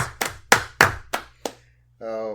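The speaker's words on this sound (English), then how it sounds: "you guys want to join me in a little round of applause?" About six sharp, separate claps ring out in a slow, fading run to celebrate anniversary stars, dying away before a voice starts speaking.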